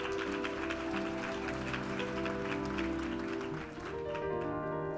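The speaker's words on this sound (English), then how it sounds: "All right, now let's applaud Shantae Davies-Bulch." An audience at an awards luncheon applauds steadily, a broad continuous wash of clapping with tonal background sound underneath and no one speaking.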